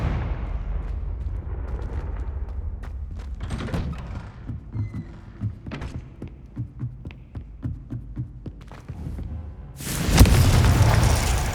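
In the video game Hogwarts Legacy, the Confringo spell ends in a series of deep booms and thuds, sharp impacts in irregular succession, then a loud, broad blast near the end.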